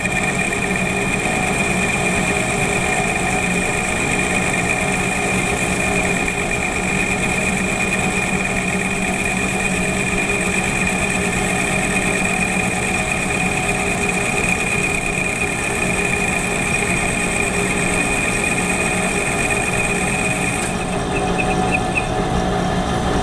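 A lathe turns at 550 RPM as a toolbit cuts the workpiece at 0.1 mm per revolution and 1 mm on the diameter, producing a steady, unbroken mechanical hum with a whining tone for over twenty seconds.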